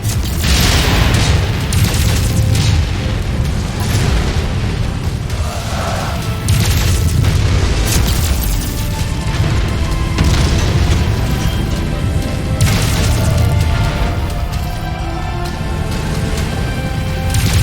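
Missile explosions in the MechWarrior 5: Mercenaries video game, rendered as loud, continuous booming blasts with dense low rumble that swells and recedes across the stretch, without a break in the roar.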